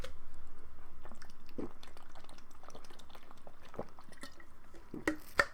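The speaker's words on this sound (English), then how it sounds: "I need a sip of water." A person takes a sip of water close to the mic, with soft wet slurping, swallowing and small mouth clicks, quiet and intimate with no talking.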